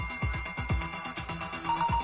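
Phone and computer alert tones ring in a quick repeating pattern, several chiming pulses layered over one another at a moderate, somewhat distant level, with no voices.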